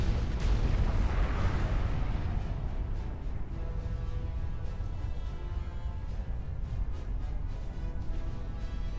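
A battleship blows up in the real-time strategy game Supreme Commander during a UEF campaign mission. A loud, dense explosive rumble with a heavy low boom rolls on for several seconds, with crackling debris on top and no voices.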